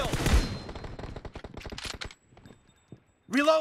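Rapid bursts of gunfire from a PUBG Mobile match ring out loudly for about two seconds, then thin to a few scattered shots before a brief sweeping tone closes the passage.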